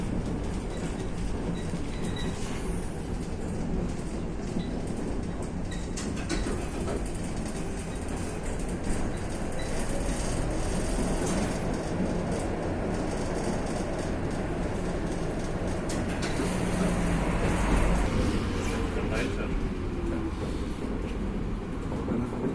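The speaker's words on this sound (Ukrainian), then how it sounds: "Ось такі от у Варшаві теж є старі трамваї." An old tram rolls past on a Warsaw street, a long loud rumble of wheels and rails with clattering, a rising squeal of wheels near the end and steady traffic noise around it.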